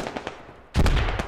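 Gunfire in the tactical shooter Squad on the Al Basrah map, a few faint distant shots followed by a loud, close burst of rapid automatic fire that continues through the rest of the moment.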